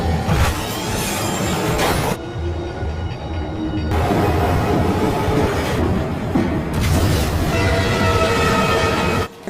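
A train rolls past a railway crossing during a car race in a Fast & Furious film, loud and close, with continuous rumbling and clattering wheels that briefly dip in volume before surging again.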